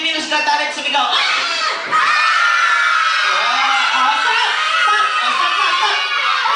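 A crowd of children shouting and screaming together at a birthday party, loud and close, one sustained roar with a brief dip before swelling again, high voices cheering over each other throughout.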